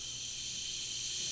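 Carbonated traditional Korean liquor, a white-focused brew, fizzing steadily as it is opened, a continuous bright hiss of rising bubbles with no talk over it.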